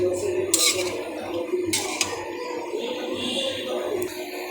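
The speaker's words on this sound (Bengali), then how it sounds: "মশলাটা আমি এই যে রান্না করছি" Masala of ginger, cumin, garlic and ground pepper is stirred in a pan with repeated sharp scrapes and clinks of a utensil against metal over a soft steady sizzle, heard close up.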